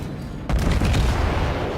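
A heavy naval gun salvo booms out in World of Warships after a quiet moment, followed by a sustained low rumble of firing.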